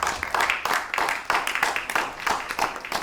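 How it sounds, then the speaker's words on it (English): An audience at an evening live-streamed community event gives a round of applause, dense clapping rising and falling in waves, fairly close and loud, with whoops and voices mixed into the crowd noise. "If we could have a round of applause."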